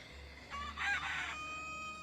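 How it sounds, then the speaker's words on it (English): A small rooster crows once, a fairly distant, faint cock-a-doodle-doo rising and falling over a quiet background. "Our little rooster's crowing."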